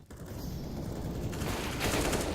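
Rapid gunfire from a Counter-Strike match in competitive esports play, a dense burst of shots building in intensity and staying loud without pause, no commentary heard over it.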